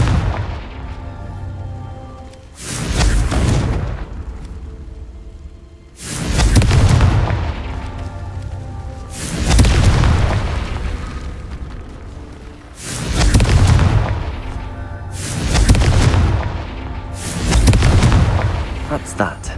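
Blasting spell explosions in the Hogwarts Legacy video game: six loud, close booming blasts fire at irregular intervals, each with a sharp attack and a rumbling tail, over low game ambience with occasional voices.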